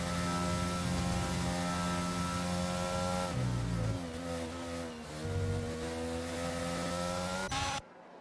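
A Mercedes Formula 1 car on soft tyres lapping in a racing video game, its high, buzzing engine note holding steady, dipping and rising again through corners, loud and continuous before cutting off abruptly.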